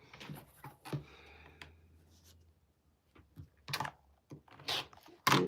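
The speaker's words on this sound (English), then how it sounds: "I'm going to just take it and cut it now." Scissors cut through a small scrap of quilt fabric, giving a few short crisp snips and rustles with quiet gaps between them, close and fairly faint.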